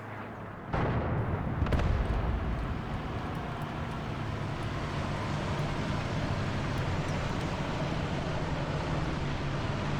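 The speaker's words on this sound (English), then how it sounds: "Once again, there's a gun shooting." An enemy artillery gun fires in the Graviteam Tactics war game near Volna. A sharp, heavy boom lands early, a second hit follows about a second later, and a dense, rumbling roar of battle noise continues underneath.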